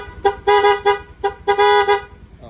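An aftermarket PAA horn fitted to a Yamaha Mio Soul i125 scooter blares in a run of loud, close honks: three short blasts, then a longer pair, with brief gaps between them.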